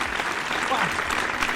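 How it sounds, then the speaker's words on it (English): A brief burst of applause from a podcast's applause button, a crowd-clapping sound effect played loudly for about a second and a half. "Where is the applause button?"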